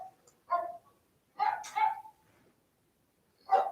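Several dogs bark in short bursts at a moderate distance, three separate volleys with quiet gaps between them and no speech.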